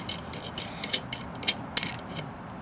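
A ratchet wrench tightens a nut down onto the pulley of a Ford Explorer power steering pump, giving a few faint, quick clicking bursts spaced irregularly over a low background hum.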